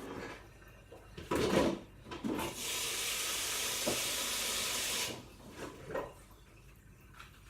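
A tap runs to refill a snail tank, giving a steady rushing hiss for a few seconds between soft clunks and handling noises before and after, with no talking.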